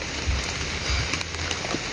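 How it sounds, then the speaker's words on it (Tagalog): Heavy rain pours steadily outdoors in a dense, continuous hiss of drops hitting surfaces, loud and close, with no other sounds standing out. "kasi malakas yung ulan"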